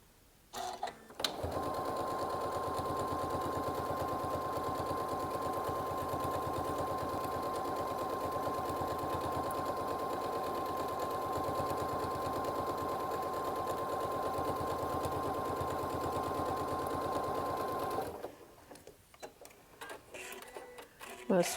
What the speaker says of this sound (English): I'm just going to flip this over right now and stitch on that line